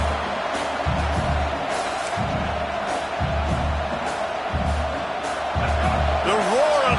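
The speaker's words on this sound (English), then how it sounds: "The roar of the crowd trying to fuel this defense to keep them pinned in their own end." A stadium crowd at a Sooners vs Tigers college football game keeps up a steady, loud roar, with thumps and shouts rising out of the wash of noise and a voice talking over it.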